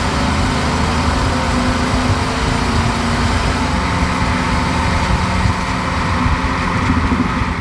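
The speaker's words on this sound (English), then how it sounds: "You'll hear the motor more than anything. That 302 is really strong." Steady engine drone from a 1969 Ford Mustang Grande with its 302 V8 and quiet muffler, heard from inside while driving, a constant low rumble with road noise and no talk.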